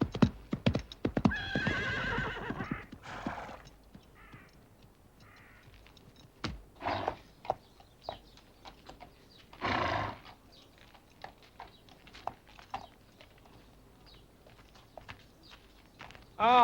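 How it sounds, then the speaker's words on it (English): A horse neighs loudly near the start, then hooves clip-clop intermittently across the clip, with footsteps and a crow cawing in the background; a second whinny rises near the middle. "She's getting her horse ready."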